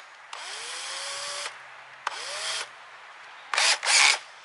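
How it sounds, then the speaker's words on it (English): A power drill bores a small hole in a cracked plastic Vibe Seaghost 130 kayak, whining in two short bursts with a rising pitch, followed by a harsher, louder grinding burst near the end. "we're going to drill a crack, drill a little hole on each end"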